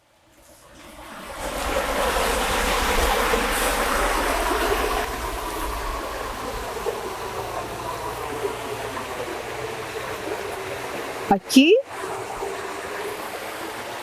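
Water of the Huasco river flows at irrigation intakes with a steady, broad rushing close by. A voice speaks briefly over it, and a short clattering burst comes near the end.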